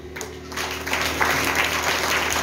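A church congregation breaks into applause, a dense wash of clapping that swells and holds steady with a background hum, with some voices mixed in.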